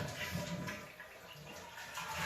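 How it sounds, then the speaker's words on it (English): A household toilet with its water supply shut off is flushed to empty the tank, giving a soft, steady rush and gurgle of draining water, fairly quiet and alone. "Flush it again, empty out all that water."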